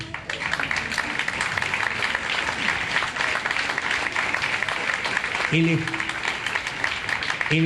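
Audience applause at a seminar fills the clip, steady clapping from a crowd throughout, with someone briefly speaking near the end.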